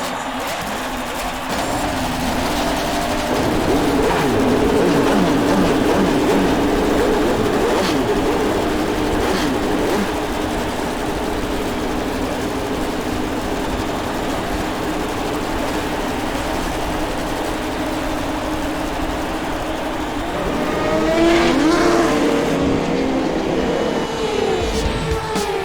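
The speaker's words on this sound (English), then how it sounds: "start your engines." Indy car race engines starting and revving on the grid at the 2005 Indianapolis 500, a loud, dense, sustained roar of many motors that holds steady throughout and swells again near the end.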